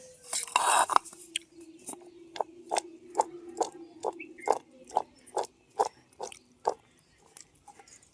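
Chopped vegetables with turmeric, salt and coarse peanut powder being mixed in a metal vessel: a steady series of about a dozen sharp clinks and scrapes in an even rhythm, close and fairly clear, with no talk.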